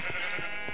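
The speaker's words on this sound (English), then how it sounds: "I'm gonna lose my sheep again!" A sheep in the Minecraft video game gives a single short bleat, clear and fairly close, with no talking over it.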